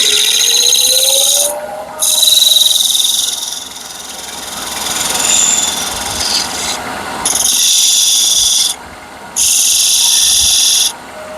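A wood-turning skew chisel cuts into spinning wood with bursts of loud, hissing scraping that start and stop several times, separated by quieter stretches of a whirring lathe.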